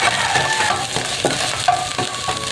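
Onions stir-frying in an oiled pan for pork chao fan, a steady close sizzle broken by a few sharp scraping stirs of the utensil against the metal.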